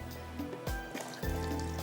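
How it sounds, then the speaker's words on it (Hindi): Water poured from a cup into a cooking pot of vegetables while preparing Afghani tandoori chicken, heard as brief splashing and trickling pours in a couple of bursts, close and moderately loud, with no talk. "थोड़ा सा पानी मैं इसमें और भी डालूँगी"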